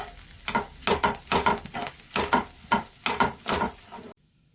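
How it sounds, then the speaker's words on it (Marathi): A potato filling with coriander and red chili powder is stir-fried in a pan, close rhythmic scraping and sizzling bursts repeating about twice a second, ending abruptly in silence. "त्यामध्येच आपल्याला धना पावडर, लाल मिरची पावडर, चवीनुसार मीठ घालायचं आणि भाजी ना चांगली परतून घ्यायची."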